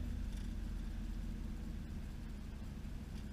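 A car engine fitted with a 4L80E transmission and running very rich, heard up close as a steady low rumble with slight shifts in pitch as the gearbox drops down toward first.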